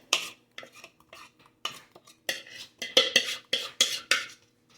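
A spatula scrapes the sides of a bowl of homemade pumpkin pie filling made from real pumpkin, giving a run of short, wet scraping strokes in an irregular rhythm, close and fairly loud, with no talking.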